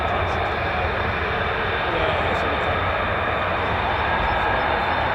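F-15 or F-35 fighter jet climbing on afterburner near RAF Lakenheath, a loud, steady broadband roar that holds unbroken from start to finish.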